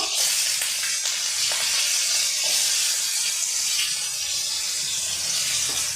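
Potatoes fry in hot mustard oil with a cumin seed tempering, a dense, steady sizzling hiss with small crackles and pops throughout, close and fairly loud, no voices.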